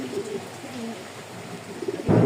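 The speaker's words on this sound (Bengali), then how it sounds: "এই হচ্ছে লাহোরিটা দেখেন এই যে বিডিং করতেছে" A Lahori pigeon coos softly in low, short murmuring notes nearby, and a louder burst of sound cuts in at the very end.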